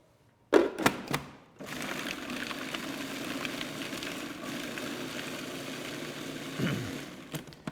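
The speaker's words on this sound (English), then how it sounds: "Grind up all the ingredients, and then I'll add my olive oil." A food processor grinding roasted garlic, roasted walnuts and a pinch of salt for pesto, a steady motor whir after a few sharp knocks at the start.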